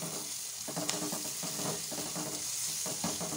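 Ginger-garlic paste sautés lightly in a pan, crackling with a continuous close sizzle broken by a few soft stirring scrapes and clicks; nobody speaks.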